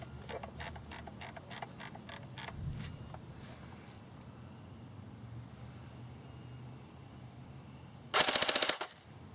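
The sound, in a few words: AGM MP008 M14 airsoft AEG firing on full auto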